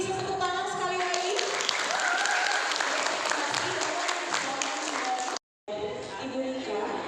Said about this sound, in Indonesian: Mungkin bisa tepuk tangan sekali lagi.